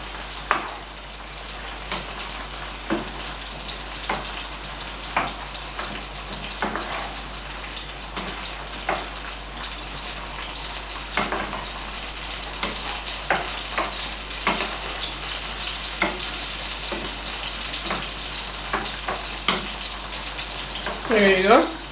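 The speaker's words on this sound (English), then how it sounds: "stir everything together. You stir it until it gets a liquid form." Liquid mixture stirred in a pan during cooking, a steady sizzling, bubbling wash with soft clinks and scrapes scattered throughout, close and continuous, with no talking.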